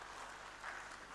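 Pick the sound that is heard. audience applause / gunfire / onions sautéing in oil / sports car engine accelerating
audience applause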